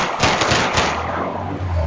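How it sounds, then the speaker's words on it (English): Rapid gunfire in a city neighborhood street shootout: a quick burst of loud, sharp cracks early on, then a rumbling, noisy tail. "Rapid fire gunshots"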